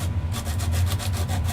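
A guitar nut is filed down with 100 grit sandpaper in quick, even, back-and-forth rasping strokes over a low background hum. The sound is short and moderately loud.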